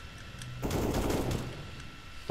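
Gunfire in Counter-Strike: Global Offensive Wingman match, a burst of rapid shots from a short distance lasting about a second, muffled and moderately loud over game ambience, with no talking.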